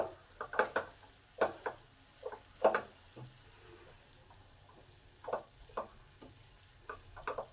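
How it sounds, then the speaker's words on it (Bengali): Potatoes and cabbage being turned in a wok as the vegetables cook in their own released water, irregular spatula scrapes and clatters with soft sizzling between, quiet and close, pausing midway. "ভালো করে নেড়ে দেব, আলু আর বাঁধাকপি ভালো করে পাইল করে দেব।"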